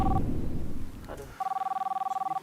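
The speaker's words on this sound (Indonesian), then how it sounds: "Gak lama kemudian datang telepon masuk" A telephone rings with an incoming call, a short electronic warble pulse followed by a longer steady buzzing ring, heard after a burst of indistinct background noise.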